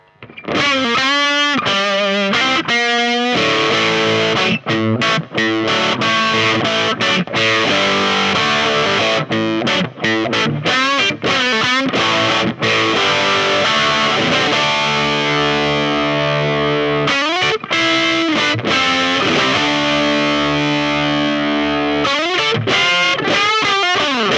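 A heavily overdriven electric guitar through the lead channel of a Tone King Gremlin combo amp plays a lead line with sustained, distorted notes and quick runs, loud and saturated throughout.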